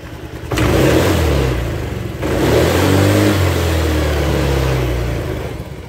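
Honda Vario 110 scooter engine revving after a carburetor fix, loud and close, climbing quickly to high revs, briefly dropping, then revving up again and holding.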